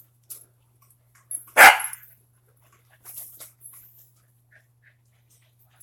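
A dog lets out one sharp, loud bark up close, followed by softer whimpering yelps in an otherwise quiet room with a low steady hum.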